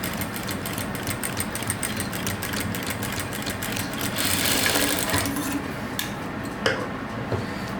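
Sewing machine stitching a hook and eye fastener onto fabric, a fast, steady mechanical whirr and clatter close by, with a brief lull and a few small clicks near the end.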